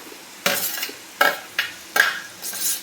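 Onions and capsicum frying in a pan for veg Manchurian: four distinct spoon-stirring scrapes over a light sizzle, heard close and alone.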